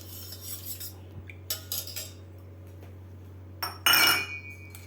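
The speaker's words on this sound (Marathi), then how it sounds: "आता आपल्याला हे व्यवस्थित हलवून घ्यायचं आहे." A spoon stirs kokum solkadhi made with buttermilk in a bowl, producing scattered metallic clinks and scrapes against the bowl with a louder clattering burst near the end, close over a low steady hum, no talking.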